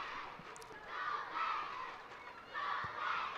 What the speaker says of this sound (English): the crowd really starting to make themselves heard now